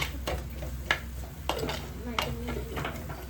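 A spoon stirs chickpea curry with tomatoes in a pan, giving repeated scraping clinks against the metal at an uneven rhythm, close by, over a low steady background hum.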